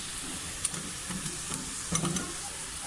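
Minced meat (keema) with potatoes sizzles in a pan while being stirred, a soft continuous fry with scattered light scrapes and clicks of the spoon, no talking.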